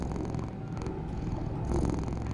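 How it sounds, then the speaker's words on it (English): A crow purrs in the video game Jazzpunk, a close, soft, continuous rumbling purr that runs without a break. "I always knew crows purred."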